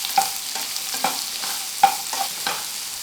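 Chicken breast pieces for butter chicken lightly frying in a pan, a soft continuous sizzle broken by repeated stirring scrapes and taps at an even pace, close up, no voices.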